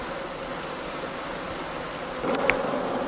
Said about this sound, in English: How many bees would there be inside a hive, Bill?